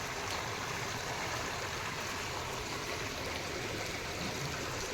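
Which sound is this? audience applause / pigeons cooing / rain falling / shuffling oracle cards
rain falling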